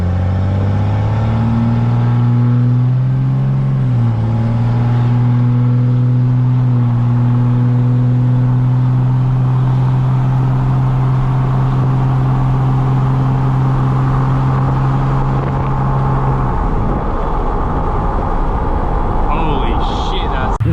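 An old Cummins diesel farm truck accelerates hard from a standstill toward 60, its engine droning loud and steady with a rising note and a shift change partway through, while people talk over it.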